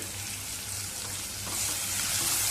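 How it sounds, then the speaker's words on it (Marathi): Chopped onions fry in oil with cumin and ginger in a pan on medium heat, giving a steady close sizzle that turns louder and brighter partway through; no talk. "हलकासा सोनेरी रंग येईपर्यंत चांगला कांदा परतवून घ्यायचा"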